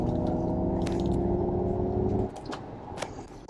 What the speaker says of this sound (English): It's kind of a combination of an engine noise with a Star Trek style sci-fi noise.